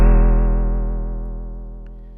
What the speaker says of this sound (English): If I moved it more towards the steel,